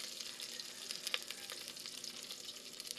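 Garlic frying in a pan, a continuous soft sizzle with faint crackles and pops, fairly quiet and steady, with no talking.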